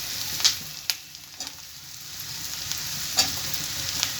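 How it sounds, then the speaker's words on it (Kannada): Potatoes fry with onions and turmeric in a pan for an aloo roast, making a steady, close sizzle with a few light clicks and scrapes of stirring. "ಈರುಳ್ಳಿ ಚೆನ್ನಾಗಿ ಫ್ರೈ ಆಗಿದೆ, ಇದಕ್ಕೆ ಆಲೂಗೆಡ್ಡೆ ಹಾಕೊತಾ ಇದ್ದೀನಿ,"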